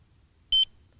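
A Delkim carp fishing bite alarm gives a single short, clear electronic beep as slight line movement, about two millimetres, trips its sensitivity, heard alone against quiet background.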